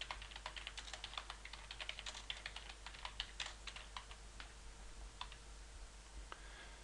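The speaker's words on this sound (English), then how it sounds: "So I'm going to type in" Rapid keystrokes clatter on a computer keyboard in irregular bursts, close and fairly quiet, with no voices over the clicking.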